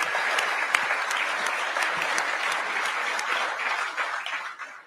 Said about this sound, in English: Give the commissioner a big round of applause